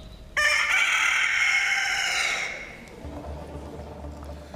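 A rooster gives one loud, close, screeching crow that rises sharply, holds and then trails off, followed by faint background murmur from a studio audience.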